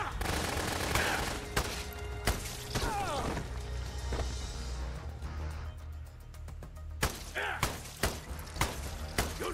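Gunfire in the video game Dead Rising: repeated sharp shots and bursts crack out through busy game noise, some spaced apart and some in quick clusters, loud and close, with a voice speaking now and then.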